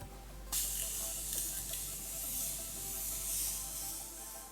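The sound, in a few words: setting spray being sprayed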